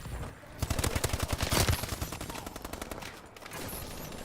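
Rapid automatic gunfire in a first-person shooter: a fast, crackling stream of shots, dense and close. It thins into scattered bursts toward the end, with faint background noise between.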